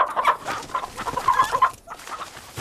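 Chicken clucking loudly and close, a busy run of short, repeated clucks that pauses briefly near the end before picking up again, with no talk over it.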